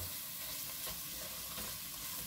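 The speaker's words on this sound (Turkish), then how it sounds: "Salçayı güzelce kavuruyorum." Tomato paste sautéing in a pan with rendered sucuk fat for a bean stew, giving a steady, close sizzle and frying hiss with light stirring scrapes throughout.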